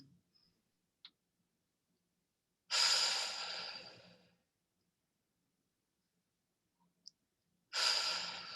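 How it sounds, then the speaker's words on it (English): Slow, deep breaths drawn into the belly during a guided breathing exercise, two long airy exhales heard close and quiet, separated by silence with faint clicks. "let's take 3 breaths together into the belly, into the ground"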